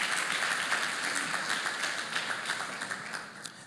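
An audience at a community foundation annual meeting claps in a dense round that starts full and gradually thins and fades toward the end, with a few individual claps standing out.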